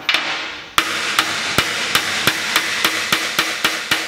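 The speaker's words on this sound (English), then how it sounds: "If you don't have a press, then you can probably use a big hammer and tap it in." Hammer blows tapping steel shafts flush into the top plate of a homemade egg sinker mold: about a dozen sharp, evenly spaced metallic strikes close up, loud and ringing, with no talk.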